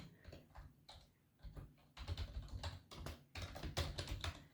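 Python code being typed on a computer keyboard, a quick run of clicking keystrokes in uneven bursts with short pauses, close and fairly quiet, with no talking.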